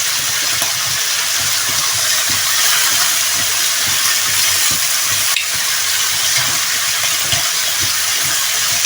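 Pork cheeks sear in a hot pan with a steady, loud sizzle and hiss that holds evenly throughout, broken only by faint clinks, with no talking.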